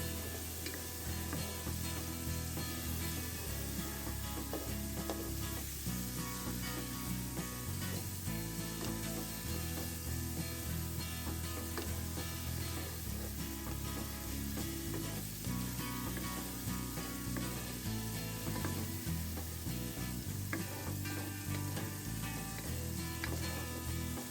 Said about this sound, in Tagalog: Saute yung bawang, sibuyas, luya, saka yung kamatis.